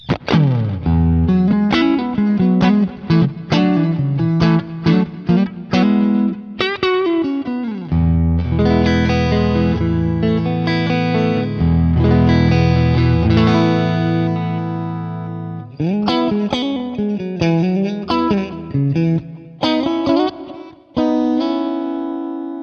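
Electric guitar played through a '65 Princeton Reverb amp profile with a clean tone, strummed chords and single-note runs ringing out loud and close, no voices.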